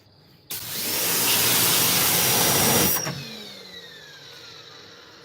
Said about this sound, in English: You just vacuum the carpet.